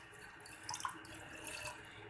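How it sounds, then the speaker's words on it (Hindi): Water poured into a pan of sugar to make syrup, a faint, soft trickle and splash with a few brighter drips, continuous over quiet kitchen background. "ये जो मैंने पानी लिया था ये मैं इसमें डाल दूँगी"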